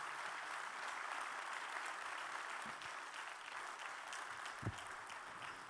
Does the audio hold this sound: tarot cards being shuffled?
no